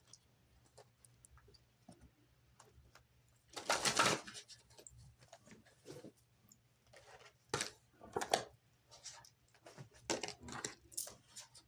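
Tarot cards shuffled by hand in several bursts, a long riffling sweep near the start and shorter quick flutters later, close and alone with no talk.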